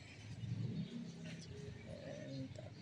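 Birds in an aviary, including a pigeon or dove, give soft repeated cooing calls with brief chirps layered through, fairly faint and close, with no talk over them.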